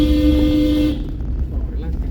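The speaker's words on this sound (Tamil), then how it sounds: "அதுதான் கத்தணும், ஹார்னில் கத்தணும்." A car horn sounds during a driving lesson, a steady tone held for about a second that then cuts off, leaving low engine and road noise behind it.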